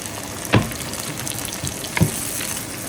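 Three sliced plum tomatoes frying in a pan for a grilled beef chunk rib biryani, a steady close sizzle with a couple of sharp pops, no voices.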